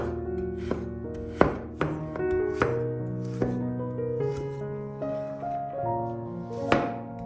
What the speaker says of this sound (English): Dice 1 carrot.